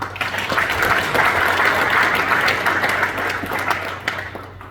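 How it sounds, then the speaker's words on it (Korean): A large crowd at an official civic gathering gives loud, sustained applause that holds steady before tapering slightly toward the end. "여러분들 큰 박수 한번 주셨습니다."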